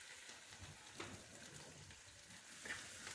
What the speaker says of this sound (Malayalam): ഇതെല്ലാം കൂടെ പെട്ടെന്ന് ഇങ്ങോട്ടും ഇങ്ങോട്ടും 2 തട്ട് പെട്ടെന്ന് വഴറ്റിയെടുക്കുക